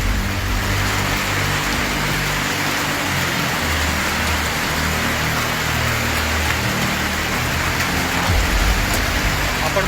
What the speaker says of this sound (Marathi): पावसाने हजेरी लावलेली आहे.